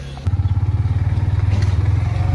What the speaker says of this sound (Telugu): బైక్లో అయితే వెళ్తున్నాం అనమాట